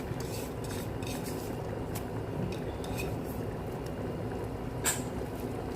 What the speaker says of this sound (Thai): ใส่ใบชะพลูแล้ว ก็กดใบชะพลูให้ ลงไปอยู่ในน้ำแกง